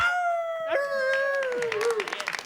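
A man imitates a wolf howl with a long, wavering, falling cry, followed by cheering and clapping from a crowd.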